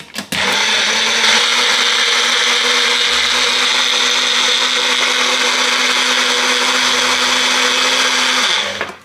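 Blender whirring up a smoothie of frozen fruit and peach, a loud steady motor whine that starts abruptly, runs for about eight seconds with slight changes in load, then cuts off.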